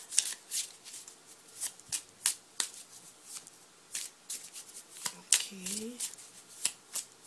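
Tarot cards being shuffled and cut in a rapid run of crisp, papery riffles and slaps, close and fairly loud, with a brief spoken word partway through.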